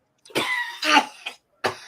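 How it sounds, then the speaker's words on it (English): Three or four harsh coughs from a lingering week-long cough burst out close and loud, spaced irregularly with short silences between them, with no talking. "I've been dealing with this cough for over a week."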